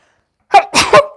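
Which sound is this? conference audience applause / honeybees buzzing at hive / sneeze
sneeze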